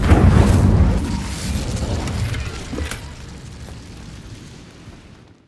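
An Incendio fire spell erupts in the Hogwarts Legacy video game as a loud, rumbling fiery blast that fades gradually over several seconds.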